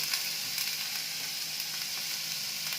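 Food frying in a pan gives a steady, bright, close sizzle that holds level throughout, with faint stirring touches and no voices.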